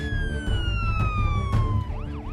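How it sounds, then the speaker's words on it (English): Ambulance siren wailing close by, a loud continuous tone sliding steadily downward and then switching to rapid up-down yelps, over low rumbling background noise. "The ambulance is on the way."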